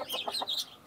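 Chickens, including a black hen, cluck in a short run of quick, moderately faint calls inside a mini zoo enclosure, with no talking over them.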